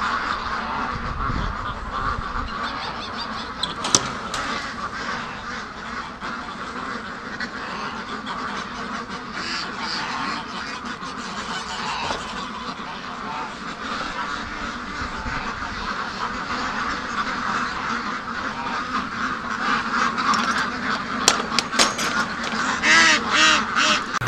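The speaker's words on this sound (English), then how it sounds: "You can see the ducks, there they are." Free-range ducks pour out of their pen toward a creek and lake, a flock quacking in a busy overlapping chorus close by, with occasional honk-like calls rising near the end.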